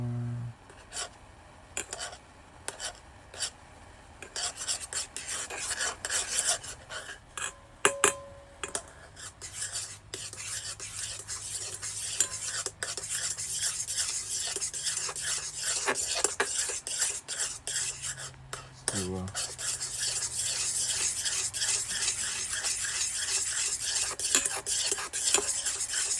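A boiling rat, ant and termite poison mixture stirred in a pot, with continuous scraping and clinking of a utensil against metal over a steady bubbling hiss, sustained and close throughout, no voices.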